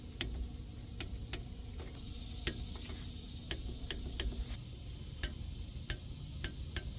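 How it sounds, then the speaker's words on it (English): A torque wrench tightens bolts on a Ford F150 during a wheel end repair, giving a series of sharp, evenly spaced clicks over a steady background hum in a garage, with no talking. "now we need to grab our torque wrench and torque these bolts down."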